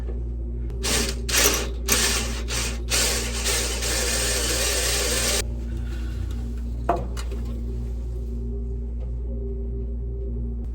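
A drill boring out bolts on a Cooper split bearing during prop shaft repair aboard a sailboat, several harsh grinding bursts up close over a steady low mechanical hum, then the drilling stops and only the hum and a faint clunk remain.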